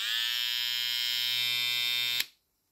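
A Stylecraft Skeleton hair trimmer buzzes with a steady, close, high-pitched electric whine for about two seconds, then is switched off and falls abruptly to silence.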